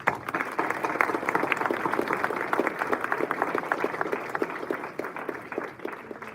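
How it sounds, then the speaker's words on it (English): An audience at a university commencement and graduation ceremony applauds the graduating students. The steady, even wash of many hands clapping continues throughout at moderate loudness, with no break. "Let's give you a round of applause"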